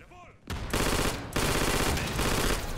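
A full-auto Mauser C96 machine pistol fires in the Day of Infamy video game, with loud, very rapid bursts rattling close by in long strings after a brief voice at the start.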